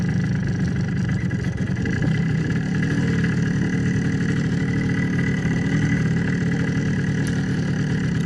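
An MZ TS250/1 Supa five motorcycle engine running in first gear, a continuous steady buzzing two-stroke drone at constant loudness throughout, close and without talk.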